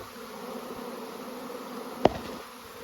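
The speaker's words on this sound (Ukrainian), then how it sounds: "Рій зупинився на дереві над вуликом." A steady, close buzzing drone of a honey bee swarm settled in a tree above a hive, many bees humming together, with one brief sharp tap partway through.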